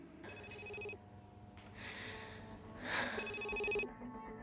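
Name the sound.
telephone ringing with an incoming call, in an interactive game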